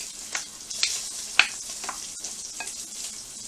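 Sausage fries in a pan and is stirred, a soft continuous sizzle broken by sharp scraping and clicking strokes of the utensil at irregular intervals, close by and without talk.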